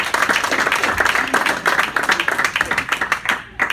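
Audience applause at a live magic show, with dense continuous clapping that runs loud and close throughout and fades slightly near the end.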